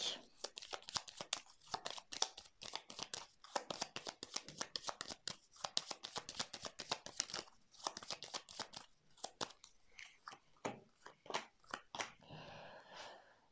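Tarot cards are shuffled in rapid flicking bursts, then laid out with a few slower slaps and rustles. The sound is close and quiet, and nobody speaks.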